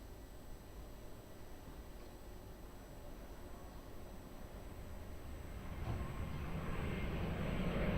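A fixed-wing airliner taking off from runway 02 at Lisbon Airport, a distant broadband engine roar that builds steadily louder toward the end.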